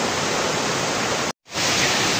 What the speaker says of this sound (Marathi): हे आम्ही शोधून काढलेला धबधबा आहे